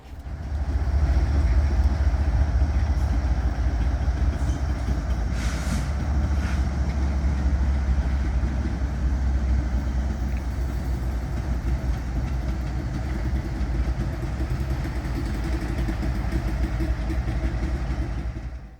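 A freight train's pair of Union Pacific GE diesel locomotives rumble steadily into a rail yard near Sheffield, Alabama, with a deep, continuous engine drone throughout, fairly close and loud, with no voices.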